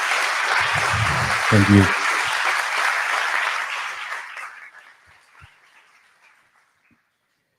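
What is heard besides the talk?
applause for the conference committees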